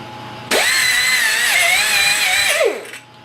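An angle grinder fitted with a guard spins up sharply into a loud, steady high whine as it bites into the work for about two seconds, pitch wavering slightly, then winds down and drops away.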